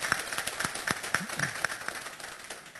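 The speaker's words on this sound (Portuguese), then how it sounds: "a quem eu peço uma salva de palmas" Audience applause at a Portuguese-language café filosófico talk on wind energy, sparse and fairly faint, with individual claps standing out over a steady patter.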